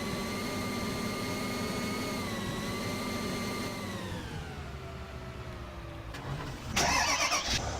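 Engine of a Ford F-250 truck in Farming Simulator 2015, a steady droning hum that slowly drops in pitch, ending with a brief louder burst of noise.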